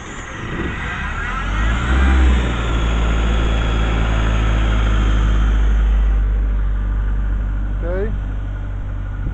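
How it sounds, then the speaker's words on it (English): A combustion compressor engine on a sandblasting machine starts and runs, a loud close low rumble that swells and holds steady, with a brief voice near the end. "engine start."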